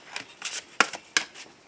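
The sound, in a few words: shuffling oracle cards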